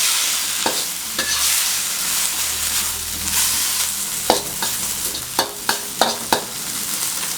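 Morning glory sizzles in a hot pan while a utensil scrapes and clacks against the metal in short sharp strokes, several clustered near the end.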